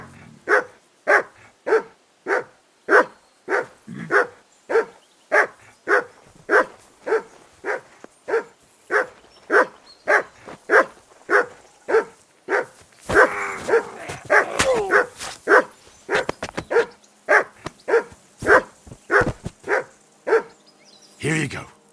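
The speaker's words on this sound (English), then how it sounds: "Sit and bark." A dog in the video game Kingdom Come Deliverance 2 barks in a steady, evenly spaced series of loud, close barks, about two dozen of them, with a stretch of talk and game noise partway through.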